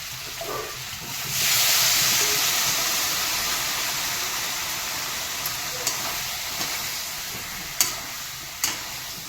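Water poured into spice masala frying in a pan for a mushroom and potato curry bursts into a loud, steady hissing sizzle that slowly eases, with a few sharp clicks of stirring near the end.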